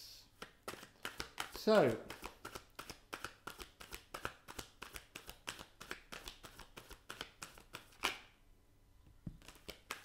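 Tarot cards are shuffled by hand in a room, a long run of quick, light riffling slaps and flutters, with a voice speaking briefly at the start.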